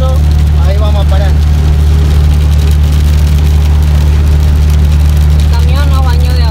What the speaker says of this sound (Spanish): nos agarró la lluvia llegando a Luján de Cuyo